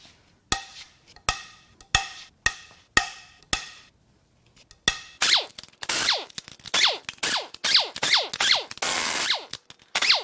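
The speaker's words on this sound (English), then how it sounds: "Now it's time to crack the head bolts loose on the other head." A ratchet wrench cracks loose cylinder head bolts on a GM 6.2L LT1/L86 Gen5 V8 from a 2015 Escalade: sharp clicking strokes, first spaced single bursts, then quicker continuous ratcheting, close and clear.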